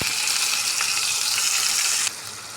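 Onion paste sizzling loudly as it hits hot oil with cumin in a pan, a dense steady crackle that drops slightly in intensity near the end, with no talk.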